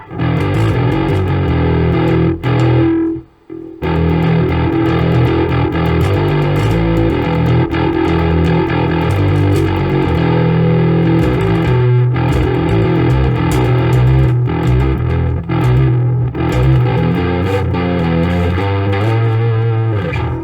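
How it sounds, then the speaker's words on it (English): A heavily distorted bass guitar grinds out crunchy, sustained notes with effects-laden texture, briefly cutting out once before continuing loud and dense. "I don't know if a bass crunch is supposed to sound like that, really."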